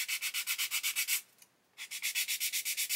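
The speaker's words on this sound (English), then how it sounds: "So we're going to sand this back" A plastic 1/32 scale Lancaster nose part is sanded with quick, rhythmic back-and-forth strokes, a close, even scratchy rasp that pauses briefly midway before resuming at the same steady pace.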